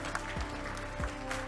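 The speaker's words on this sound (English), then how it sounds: "Let's give a good round of applause to all the speakers of the first opening plenary session" Audience applause at the opening plenary session of the Obninsk NEW 2023 conference, a short burst of clapping in a hall with a couple of dull low thumps.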